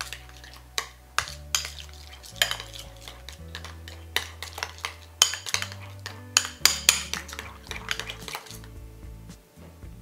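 A spoon scraping and clinking against a pan as beef shawarma rice with minced garlic is stirred, in close, irregular metallic taps and knocks with no talking.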